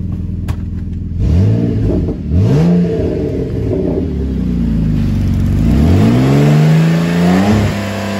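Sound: Saturn Aura XR 3.6 car engine revving

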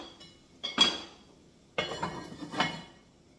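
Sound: lid put back on a simmering soup pot

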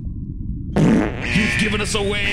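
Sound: fart

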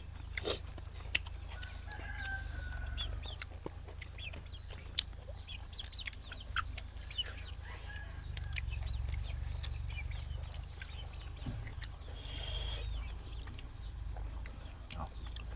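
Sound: chickens clucking

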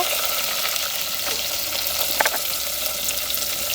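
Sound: fennel, onion, curry leaves and green chilli frying

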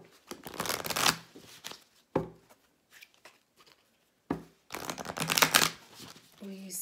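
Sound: shuffling tarot cards

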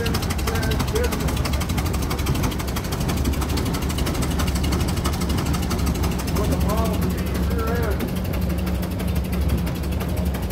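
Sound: 1928 Ford Model K truck with 1930 Model A engine running

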